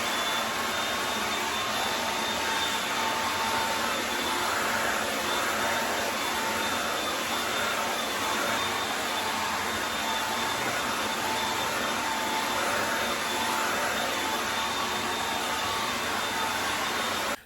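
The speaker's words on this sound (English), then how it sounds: "Why my blow dryer acting like this?" A hair dryer blows continuously with a steady, loud whooshing hum and a faint high whine, unchanging throughout with no voices.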